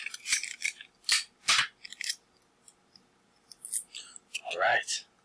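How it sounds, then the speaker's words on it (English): Tape is pulled, torn and pressed down to fix a paper prism net onto a worksheet, giving quick close rips, crinkles and soft taps in short bursts with near-silent gaps between. "So I'm going to I'm going to tape it down to A."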